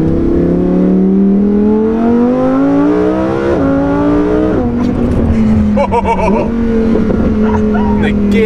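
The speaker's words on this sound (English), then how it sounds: "The downshifts are so much quicker." A Lamborghini engine revs loudly close up, its pitch rising then dropping in quick downshift steps with crackling burbles, a sharp high-revving roar running the whole time.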